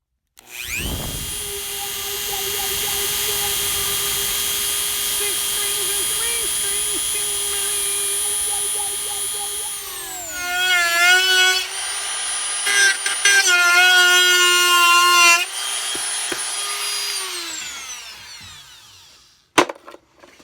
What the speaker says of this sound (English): Dremel, and I'm going to cut this bad boy out